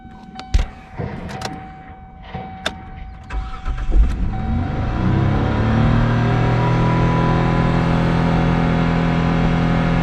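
Kia engine idling then climbing on its own with no throttle, a few clicks and knocks early on before a steady, loud rising drone builds and holds near 5,000 RPM.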